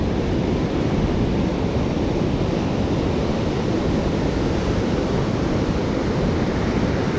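Ocean surf breaking on a shore where people fish for surf perch, a loud, steady roar of waves and wind filling the whole stretch without any voices.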